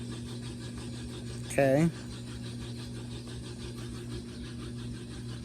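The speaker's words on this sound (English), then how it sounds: "now it's going to start spinning" An LG inverter direct-drive washing machine on a rinse-and-spin cycle begins to spin, giving off a steady, low motor hum. A person briefly speaks a single word partway through.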